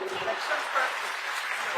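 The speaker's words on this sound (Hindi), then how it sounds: "एक बार ताली बजा दीजिए इनके लिए." An audience at a public event in Kerala addressed by Home Minister Amit Shah applauds, a dense, steady patter of clapping heard at moderate distance throughout.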